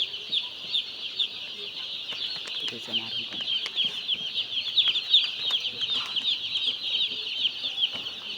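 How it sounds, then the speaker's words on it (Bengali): Many young chicken chicks peep constantly in a high, dense chorus close by, with occasional soft scuffling and a faint low voice underneath. "মুরগির বাচ্চাগুলো দেখা যাইতেছে সুস্থই আছে মোটামুটি"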